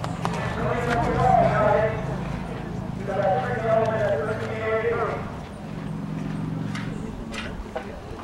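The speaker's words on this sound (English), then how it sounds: "He's one of the few full thoroughbreds seen in the show jumping today." Thoroughbred horse moving over a show jumping course at the Foxfield Derby, hooves clip-clopping steadily at moderate distance beneath continuous commentary and crowd talk, with a possible whinny partway through.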